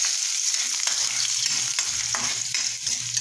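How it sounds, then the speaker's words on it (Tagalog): Tomatoes sauté in oil left over from frying hotdogs, giving a steady bright sizzle with occasional soft knocks and scrapes of a utensil stirring the pan, close up and alone. "Ngayon, gigisa natin yung ating kamatis."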